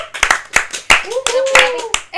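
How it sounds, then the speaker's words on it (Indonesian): A few people clapping close by in an informal indoor talk session, sharp uneven hand claps in quick bursts, with voices speaking and laughing over them. "tepuk tangan dulu ya semuanya."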